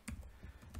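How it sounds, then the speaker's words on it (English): Typing on a computer keyboard, a few quick faint key taps in under a second. "and type in my email address"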